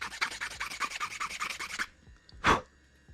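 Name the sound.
sanding an engine part by hand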